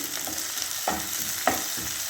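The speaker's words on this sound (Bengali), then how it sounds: "চিকেনটা দিয়ে একটু ভেজে নিই" Marinated chicken frying in a pan, a steady close sizzle with a few brief stirring scrapes and soft clatters.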